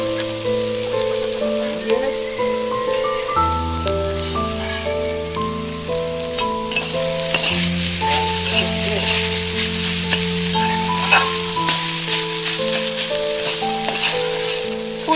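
Spices fry and are stirred in a pan for cauliflower paratha, with a steady sizzling hiss that grows louder partway through, under prominent background music.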